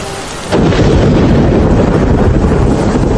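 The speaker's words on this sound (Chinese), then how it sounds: "青云山暴雨红色预警" A sudden deep rumble of thunder breaks in and rolls on loudly over a dense, steady roar of heavy rain, with no voices.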